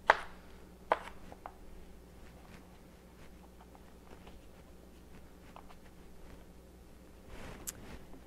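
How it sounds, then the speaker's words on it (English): A knife cuts a cucumber into thick slices on a board, giving a few sharp cuts at the start and again near the end, with quiet handling and faint scattered taps in between. "same with the cucumber, I'm going to cut thicker slices than we did for a salad a couple weeks ago"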